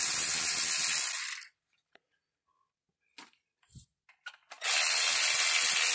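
A ratchet loosens valve cover bolts on a Ford 3.5 Duratec V6 engine with 330,000 miles, rapid clicking bursts at the start and end with brief, faint handling noises in the quiet gap between.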